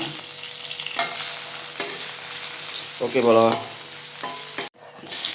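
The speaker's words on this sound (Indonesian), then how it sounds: "goreng sisa tempe sama tahunya" Leftover tempeh and tofu fry in a pan with a steady, close sizzle and occasional stirring scrapes, a short voice breaking in near the end.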